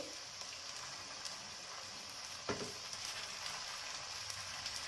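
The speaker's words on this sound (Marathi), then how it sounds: "अगदी मंद गॅस गॅसवर तळायचे आहेत हे वडे" Sabudana vada frying gently in oil over a low gas flame, a steady soft hiss of fine bubbling with a faint tap near the middle.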